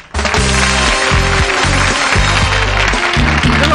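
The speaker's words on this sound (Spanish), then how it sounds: "A cambio, reciben el mejor premio para un artista. El aplauso." Studio audience applause for a Cuban comedy duo on a television variety show: a loud, dense, continuous wash of clapping that starts suddenly and holds steady, with a rhythmic low musical backing underneath.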